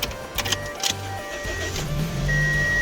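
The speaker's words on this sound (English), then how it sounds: "start the car back up" Project car engine cranking and catching, a starter whir and clicks followed by a rising steady idle hum that grows louder toward the end.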